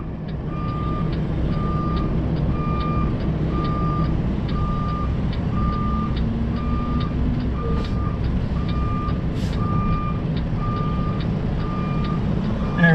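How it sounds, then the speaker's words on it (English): A truck's reversing alarm beeps in a steady, evenly spaced rhythm over a loud, constant engine rumble on a street, close by and with no talk. "And I see a truck coming from my right."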